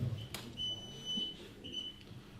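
A modified K2 EMF meter giving off a thin, high buzzing tone in two sustained stretches, faint against a quiet room with a brief click near the start.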